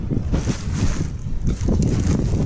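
Strong wind in a forest buffets the microphone in loud gusting bursts, rumbling and roaring in uneven surges.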